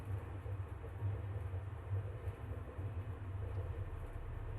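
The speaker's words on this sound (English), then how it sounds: "I don't know if it's normal for the train to be shaking like that." A train in the OMORI video game shaking and rumbling, a steady low, rolling drone with rhythmic clatter, continuous and fairly quiet throughout.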